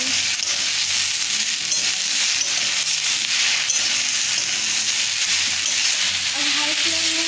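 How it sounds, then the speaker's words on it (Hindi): Okra (bhindi) fries on high flame with coriander powder, turmeric, red chilli powder and salt, giving a steady, loud, close sizzle throughout with faint stirring scrapes. "अब हाई फ्लेम में ही भिंडी को थोड़ी देर के लिए भून लेंगे।"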